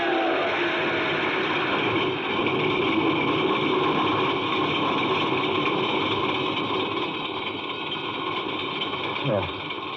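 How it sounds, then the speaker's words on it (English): A car engine turns over on the starter and settles into a steady mid-pitched running drone, close and continuous for the whole stretch, staged as a sound effect in an old suspense radio drama about a hitch-hiker, with a train nearby. "The starter worked at last."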